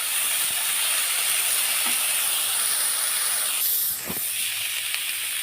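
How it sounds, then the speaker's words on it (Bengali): Cauliflower pieces frying in hot oil, a loud steady hiss close at hand with a couple of faint clinks and a short dip in the sizzle near the end, no voices. "এবার আমি ফুলকপিগুলোও ভেজে দিলাম সুন্দরভাবে"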